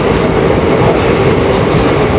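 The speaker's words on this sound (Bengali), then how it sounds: "আর এখনও পুরো ট্রেনটা টানেলের ভিতরে" A train runs through a long tunnel, its loud, steady rumble and roar continuing without a break, with faint rhythmic clatter from the wheels underneath.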